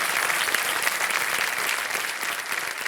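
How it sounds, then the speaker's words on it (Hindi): Studio audience applause on the Kaun Banega Crorepati game show, a dense, steady burst of clapping from a full crowd that holds at a constant loud level for the whole stretch. "तालियां बज जाए इनके लिए।"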